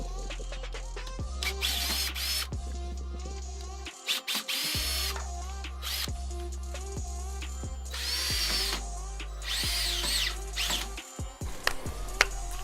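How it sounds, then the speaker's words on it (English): A power drill or driver loosening two screws on a hose hanger, running in several bursts of steady whirring with brief pauses between them. "All I got hanging this hose hanger on is 2 screws, so I just have to loosen them and bring them up."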